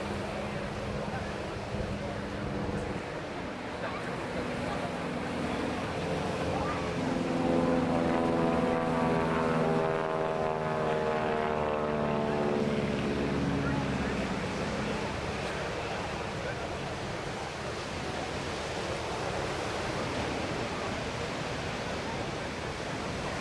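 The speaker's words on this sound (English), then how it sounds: "Being the shape and size it is, unsurprisingly not a super fast aircraft." A propeller aircraft flies past at an airshow, its drone swelling to a steady peak midway and fading again beneath continuous broad outdoor noise.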